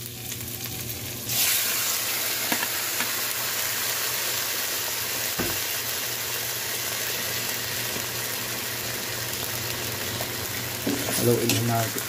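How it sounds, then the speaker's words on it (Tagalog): Softened beef skin for balbacua stirred in a hot pot, a steady sizzle with a clink of the spoon midway and a burst of clatter and movement near the end. "Haluin lang natin ito"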